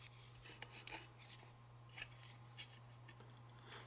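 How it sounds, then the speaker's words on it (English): A sanding stick rasps in quick, uneven back-and-forth strokes against the door of a model F3 locomotive near its vent, faint and close over a low steady hum. "So you notice I'm sanding the door, sanding out near this vent area"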